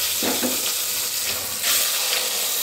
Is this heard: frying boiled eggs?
yes